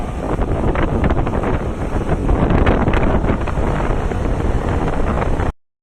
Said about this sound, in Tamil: காற்று ரொம்ப அதிகம் காய்ஸ்.